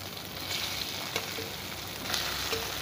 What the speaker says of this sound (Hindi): ये जो धनिया है, इसे हमें बहुत अच्छे से फ्राई करना है, बिल्कुल क्रिस्पी